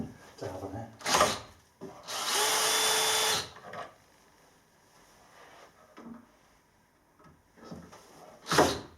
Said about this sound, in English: this is my first use of the DeWalt combi drill